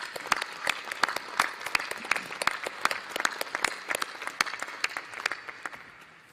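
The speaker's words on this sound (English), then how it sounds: "Please give them a round of applause." An audience at a new lawyers' induction ceremony for the State Bar of Texas breaks into steady, sustained applause, many hands clapping densely and evenly before it starts to thin toward the end.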